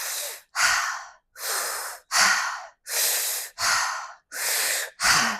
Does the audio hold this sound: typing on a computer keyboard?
no